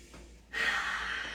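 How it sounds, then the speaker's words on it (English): Deep breath during a circuit exercise class, a soft short inhale followed by a longer, louder airy exhale close to the microphone. "let's take some deep breaths here"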